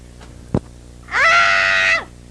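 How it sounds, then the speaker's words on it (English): A woman lets out a single loud, sustained scream lasting nearly a second, preceded by a brief sharp knock. "That is a woman screaming."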